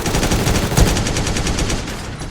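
Rapid automatic gunfire rattles steadily through a mobile shooting game styled like BGMI or PUBG, loud and continuous with a dense, evenly spaced rhythm and one heavier thump midway.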